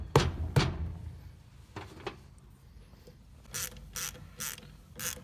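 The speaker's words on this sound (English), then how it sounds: "we're starting to tighten the bolts back down onto the ceramic cylinders" A ratchet wrench cranks bolts tight onto the ceramic cylinders of an R2020 pump during a rebuild, giving sharp clicking bursts: a couple of loud strokes up front, then a steady series of quicker ratchet clicks, close by.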